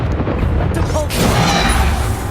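A booming blast from the Bombarda explosion spell in Hogwarts Legacy, a loud full rumble that swells midway and sustains under shouted spell names and battle noise.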